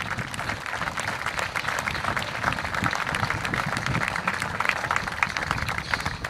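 A crowd at a partner event tied to the Tour de France applauds its women cyclists with sustained, even clapping from many hands that runs unbroken for several seconds, with no one speaking over it.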